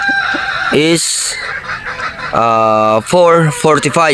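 Chickens on a game farm in Batangas cluck and call in short bursts at feeding time, with a person briefly speaking among them.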